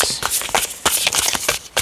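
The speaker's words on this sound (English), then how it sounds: "I'm going to shuffle 2 more times." A deck of tarot cards being shuffled up close, a quick series of crisp riffling bursts and soft slaps in an uneven rhythm, loud and clear with no talking.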